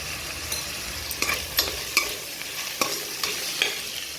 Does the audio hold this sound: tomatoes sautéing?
yes